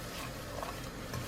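Semolina stirred and dry-roasted in a pan over low heat, a soft, continuous scraping and faint sizzle, quiet and close without any voices.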